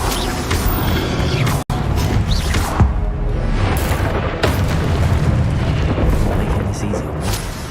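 A Confringo fire-blast spell in Hogwarts Legacy erupts in heavy, rumbling booms and crashes that run almost without a break, with a voice calling out over the din.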